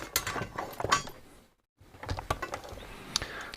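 Top cover coming off a Kenwood TR-751E radio after four screws are removed: scattered metallic clicks, scrapes and handling rattles close by, with a brief silent gap midway.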